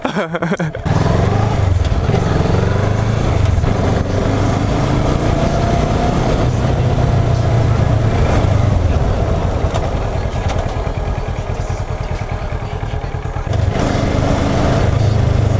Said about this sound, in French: Bon bah je m'en vais avec la moto alors.